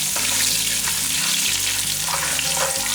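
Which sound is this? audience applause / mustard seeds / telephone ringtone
mustard seeds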